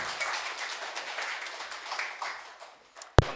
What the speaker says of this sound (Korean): 목사 나올 때 한번 환영의 박수 하겠습니다